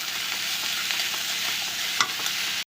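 Cauliflower frying in a pan with salt being stirred in, a soft continuous sizzle with light scraping of the spoon and one clearer clink near the end, fairly quiet and without speech.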